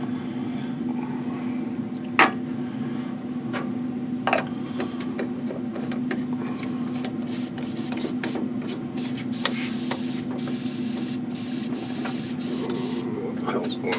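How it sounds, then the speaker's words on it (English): An Omni 4000 airbrush runs at about 10 psi with metallizer paint, giving a steady close hiss throughout with small mechanical clicks and brief bursts, and a voice speaking over it. "I'm using an Omni 4000 that I only use for metallizers at like I don't know, 10 psi"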